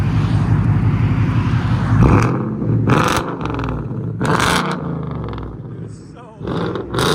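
Deep, throaty Ford Mustang GT 5.0 V8 exhaust revved repeatedly in short bursts, each rise and fall loud and close, with a person talking over part of it.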